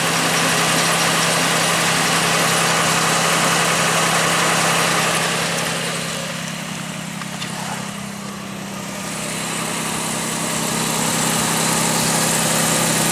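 A Pontiac Aztek idles after a jump start, giving a steady, close engine drone with a constant low hum that dips slightly in loudness midway and then returns.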